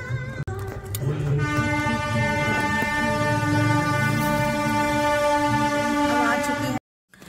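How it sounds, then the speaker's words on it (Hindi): A train runs past a closed railway level crossing, its horn sounding steadily and loud throughout with rumbling wheels beneath, ending abruptly in silence. "अभी ट्रेन आने में पता नहीं कितना टाइम लगेगा, फाटक बंद है"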